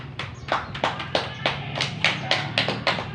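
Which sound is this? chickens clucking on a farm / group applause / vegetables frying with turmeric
group applause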